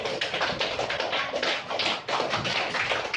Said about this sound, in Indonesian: Tepuk tangan untuk Zabril.